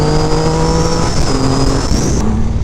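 A 2500cc three-cylinder Triumph Rocket 3 motorcycle accelerating hard, a loud, close, continuous engine roar whose pitch rises and steps through gear changes.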